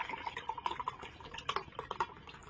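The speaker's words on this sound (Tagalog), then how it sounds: "Kailangan buhos na natin ito." Homemade pineapple juice poured into a container, giving a close, steady trickle of liquid with small splashes and drips throughout.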